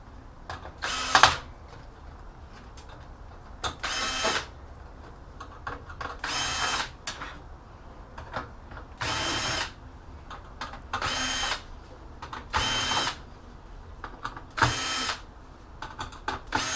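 A power drill spins screws out of a PC tower motherboard in short, loud, whirring bursts repeated about every second or two, with quiet handling noises between.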